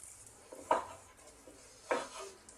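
A knife slicing open a roast Chinese-style pork tenderloin: two sharp clacks of the blade against a board, spaced about a second apart, over a faint quiet background.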